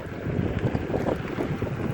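Wind buffeting a microphone during an outdoor ride, a loud, low, rumbling roar with constant gusty fluctuation, close and filling the whole stretch with no talk.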